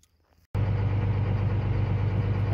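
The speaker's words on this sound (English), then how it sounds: "Got the monitor on, tractor warmed up." A John Deere tractor engine that is warmed up and ready for baling kicks in after a short quiet moment, then idles loud and close with a steady, even rumble.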